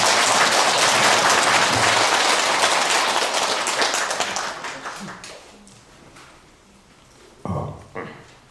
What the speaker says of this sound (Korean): 모두 불자 여러분들께서는 큰 박수로 스님을 환영해 주시기 바랍니다.